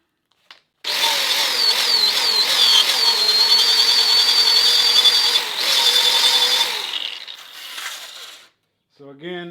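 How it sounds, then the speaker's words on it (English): An angle grinder fitted with an interleaf abrasive disc works metal, giving a loud, steady high whine for about six seconds that wavers slightly, then spins down and fades, followed by a brief voice. "Now we're going to go to the interleaf disc."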